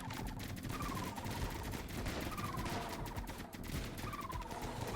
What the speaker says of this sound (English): But we got our needle post Gatling guns.